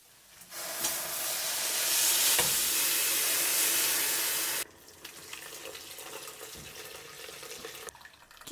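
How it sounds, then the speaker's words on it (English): Broth poured into a hot pot for curry laksa after blended shrimp and cashews, a loud rushing sizzle lasting several seconds that cuts off abruptly, followed by quieter bubbling and stirring sounds. "Pour in the broth, removing the shrimp carcasses."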